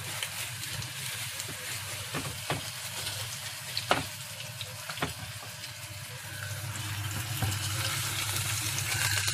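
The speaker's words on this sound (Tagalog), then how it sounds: "Ilagay at iprito." Two homemade burger patties sizzle in a frying pan, a steady broad hiss of hot fat with a few sharp pops and crackles scattered throughout.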